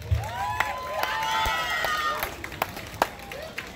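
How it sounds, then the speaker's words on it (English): A crowd at an outdoor Asian festival concert in Fairfax claps and cheers, with scattered sharp claps over lively whooping and chatter. "Let's give a round of applause for them, actually."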